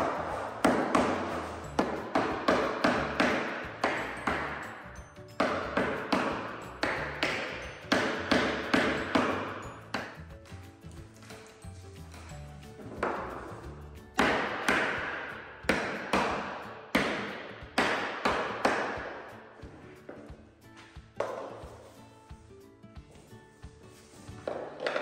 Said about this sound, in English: the two melamine boards needed some encouragement to fit together.